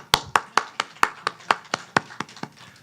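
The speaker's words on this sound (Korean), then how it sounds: "할렐루야, 박수" A small church congregation at an afternoon worship service claps: about a dozen distinct, fairly loud hand claps in a steady, slightly slowing rhythm, with faint speech beneath.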